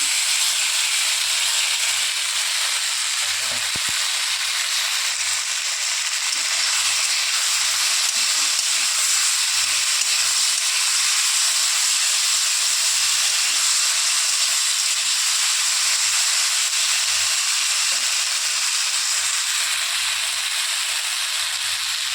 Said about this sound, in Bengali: একটু ভাজা ভাজা হোক, একটু কষিয়ে নিই।